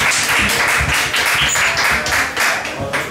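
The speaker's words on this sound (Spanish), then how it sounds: "Un aplauso para David." Audience clapping for a performer at a jam session and slam poetry night in a bar in A Coruña, loud and close, with hand claps falling in a fairly regular rhythm.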